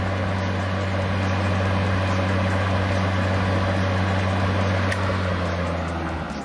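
A Greenworks 80V brushless electric lawn mower with a 21-inch deck runs with a loud, steady motor hum that barely eases at the end as the throttle is released.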